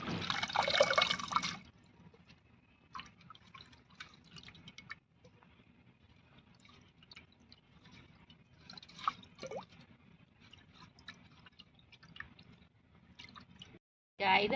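Herbs for a 45-herb soup are rinsed in water, with a splashing burst at the start, quiet drips and swishes through the middle and another splash at the end.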